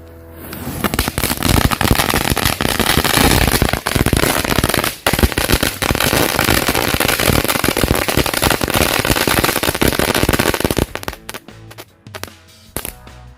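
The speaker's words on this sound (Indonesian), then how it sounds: "selanjutnya kita nyalain mercon dari Cina Green Lighting" A long string of Chinese Green Lighting firecrackers going off in a dense, rapid crackling barrage for about eleven seconds, loud and close, then tapering into scattered final pops.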